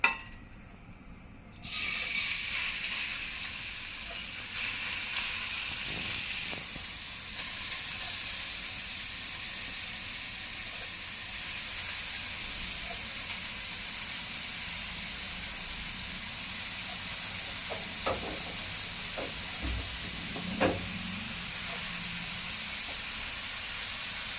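Grated carrot frying in hot ghee, a steady bright sizzling hiss that starts suddenly and holds throughout, with a few faint clinks of a utensil against the pan.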